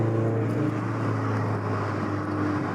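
Toyota GT86 with a catless front pipe and mufflers removed drones steadily from its exhaust, a constant low hum at cruising speed heard from inside the car with no talk.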